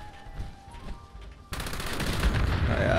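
Light machine gun firing in the video game Fallout 76, a sudden sustained automatic burst that cuts in halfway through and stays loud and dense until the end, following a quieter stretch of game ambience.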